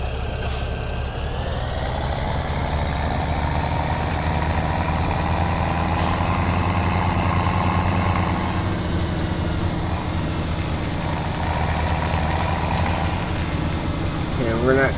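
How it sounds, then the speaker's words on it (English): A heavy tractor and trailer emptying a load in Farming Simulator 17, with a loud steady diesel engine drone throughout, a brief hiss near the start and a faint beeping toward the end, under a talking voice. "we're going to empty the trailer"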